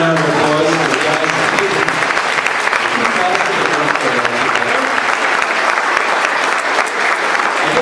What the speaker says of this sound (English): let's give a round of applause for the guys